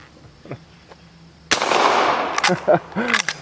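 A Henry 1860 lever-action rifle firing .45 Long Colt outdoors gives a single sharp, loud crack that rings and decays over about a second, followed by a few shorter bursts.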